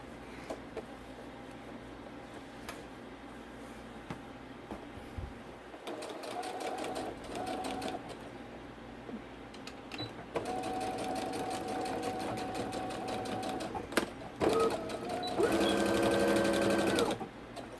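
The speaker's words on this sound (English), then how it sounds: "So I'm just going to put a quick stitch here." Sewing machine stitching a waist seam in bursts of rapid mechanical whirring and ticking, with short pauses between runs and a longer final run, close by and moderately loud.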